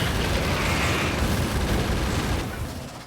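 Grenade explosions hit worms in a video game, a dense, loud, continuous roar of blasts that fades slightly at the end.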